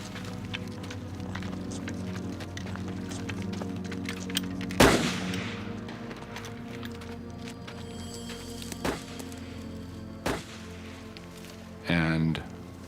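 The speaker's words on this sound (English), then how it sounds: "Then there were several deliberate shots over the space of" Several separate gunshots ring out over about half a minute, following a burst of gunfire, each a sharp isolated crack spaced irregularly against a constant low background hum with some faint talk.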